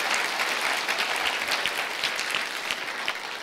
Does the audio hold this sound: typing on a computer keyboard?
no